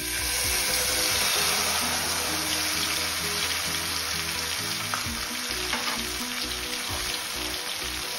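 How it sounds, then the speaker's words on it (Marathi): A paste of cashew, poppy seed and chili sautés with garlic in a hot pan for lasuni methi. A loud, continuous sizzle runs throughout, broken by occasional stirring scrapes, with no talk. "पेस्टला 2 मिनिटं परतून घ्यायची आहे"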